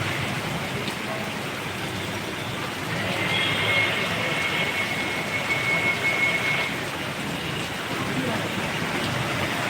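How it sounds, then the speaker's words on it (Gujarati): Heavy downpour in the Hirwadi area of Ahmedabad, a dense steady hiss of rain on surfaces that swells slightly in the middle, with a faint tonal whine briefly above it. "ફૂલ ધોધમાર વરસાદ ચાલુ જ છે"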